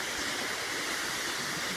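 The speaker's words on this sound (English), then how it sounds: "The grand finale of the awesome waterfall." A waterfall along a rocky trail roars as a dense, steady wash of rushing water, loud and continuous with no break and no talk.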